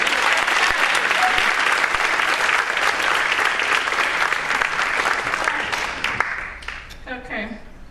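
A second round of applause at a high school Math Honor Society induction ceremony: a crowd claps loudly and steadily, the sound fading over the last couple of seconds as a voice begins speaking.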